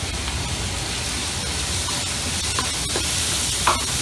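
Chopped onion sizzling steadily in a hot pan as the base for black pepper crab, a dense continuous hiss with a few soft stirring scrapes near the end.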